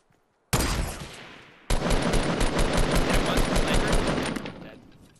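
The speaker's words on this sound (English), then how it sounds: "That was a minigun." A video-game minigun fires a short burst, stops briefly, then roars into a long, continuous rapid rattle of gunfire that tapers off toward the end.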